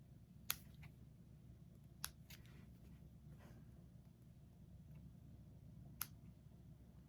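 Scissors snip the thread ends of a freshly sewn fabric mask, a few sharp isolated clicks spaced seconds apart in an otherwise quiet room.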